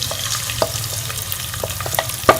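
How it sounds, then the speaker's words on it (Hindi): Onions crackle and sizzle in hot ghee, a steady frying hiss punctuated by sharp clicks and taps of a stirring utensil against the pan, close up and without talk. "घी गर्म हो गया तो अब हम इसमें ये प्याज शामिल कर लेंगे"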